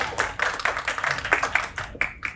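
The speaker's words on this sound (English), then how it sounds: "A big round of applause." An audience at an Indian classical music event claps in a short, close round of applause, with quick, uneven hand claps continuing throughout.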